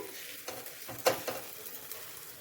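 Rava fries in ghee in a pan for laddu, giving a soft, steady sizzle with light stirring scrapes and a small clink, close and alone with no talk.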